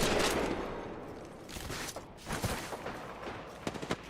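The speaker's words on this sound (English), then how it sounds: "Getting shot on my side." Gunfire in the Apex Legends battle royale game, rapid shots crackling in scattered bursts at mid distance, with a few sharper cracks near the end, no talking.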